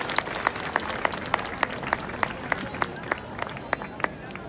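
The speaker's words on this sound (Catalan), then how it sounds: "un fort aplaudiment per la secció infantil de l'Esbar Català de Dansaires." An audience at a neighbourhood festival in Barcelona applauds a children's folk dance group, a lively wash of clapping from many hands with sharp individual claps standing out, steady and close, with faint crowd murmur beneath.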